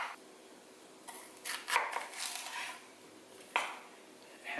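A knife slicing a small English cucumber on a board to remove the seeds: a few distinct close cuts and scraping strokes with quiet gaps between, no talking.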